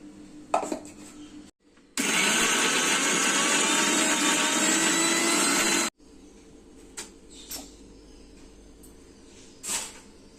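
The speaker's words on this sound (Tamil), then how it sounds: "இது அப்படியே மிக்ஸி ஜாரில் போட்டு தண்ணி எதுவுமே ஆட் பண்ணாமல் ஒரு 5 நிமிஷம் நல்லா அரைச்சி எடுத்துக்கலாம்." Pirandai ground dry in a mixer grinder jar with no water, a loud, steady four-second whir that cuts off abruptly, with quieter clinks and handling before and after.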